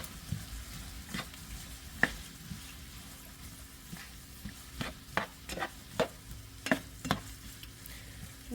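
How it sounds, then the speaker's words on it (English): Callaloo leaves frying in a pan, a faint steady sizzle broken by irregular scraping and stirring knocks that come more often toward the end. "Go ahead and just saute it."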